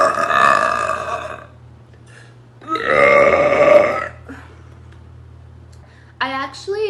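A person lets out two long, loud, gurgling burps, each lasting over a second with a pause between, followed by a short vocal sound at the end.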